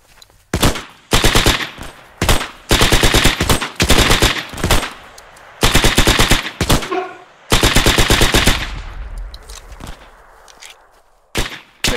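Loud machine-gun bursts in the World War II shooter Hell Let Loose, several long rattling volleys separated by short gaps, close and dominant, with one burst trailing off into quieter sounds near the end.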